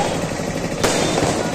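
Firecrackers set off during an outdoor Easter Sunday church celebration, a loud close bang cracking out sharply midway over a constant crowd murmur and noise, followed by a smaller pop.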